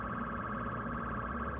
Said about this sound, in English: this red button is for a siren.